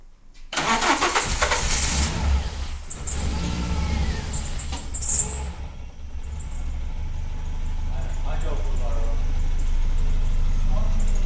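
A Renault Clio RSI with a swapped F4R engine cranks and fires up loudly, the starter whine and rising revs settling into a steady idle that runs on; people talk over it.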